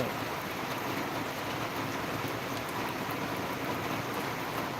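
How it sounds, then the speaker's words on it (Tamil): Heavy rain falls steadily in Kerala, a dense, even hiss of downpour with no break, loud and close throughout. "இடத்துல செம மழை வருது"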